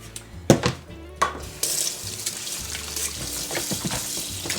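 Tap water runs over chicken pieces being rinsed in a kitchen sink, a steady splashing wash broken by clattering knocks and bursts of spray at close range.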